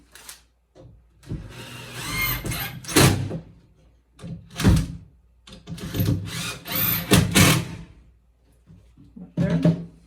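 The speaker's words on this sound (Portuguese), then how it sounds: "Um parafuso grande aqui no meio desse pequenininho. Vou colocar os parafusinhos." Small screws driven into an old wardrobe's wood while it is rebuilt into fitted furniture, heard as several whirring power-driver bursts in an uneven rhythm, each a second or two long with short pauses between, close and fairly loud.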